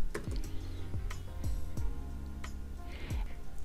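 A search term is typed on a computer keyboard, giving a quick run of close, light key clicks with a few sharper taps over a steady low background hum, with no talking.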